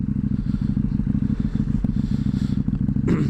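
A KTM 790 motorcycle on a test ride after a rear ABS sensor replacement gives a steady, close engine thrum with rhythmic pulsing and some rattling clatter. No one talks.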